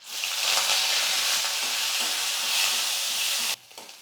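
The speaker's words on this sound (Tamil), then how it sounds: "இப்போ கொஞ்சம் தக்காளி வெங்காயம் கருவேப்பிலை இது எல்லாம் சேர்த்து வதக்கிக்கலாம்" Tomato, onion and curry leaves sautéing in oil in a pan, a loud, dense, steady sizzle close to the microphone that cuts off abruptly near the end.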